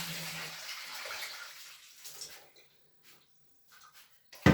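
Water splashing and sloshing while an egg incubator is rinsed, loud at first and then fading into quiet trickles and drips, ending in a short sharp knock.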